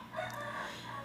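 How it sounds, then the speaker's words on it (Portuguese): Roosters crow faintly in the distance on a rural farm in the interior of Goiás, a soft sustained call over quiet background. "Tá ouvindo os galos cantando, estamos morando na roça no interior do Goiás."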